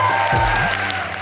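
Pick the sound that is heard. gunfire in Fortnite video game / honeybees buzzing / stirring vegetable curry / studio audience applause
studio audience applause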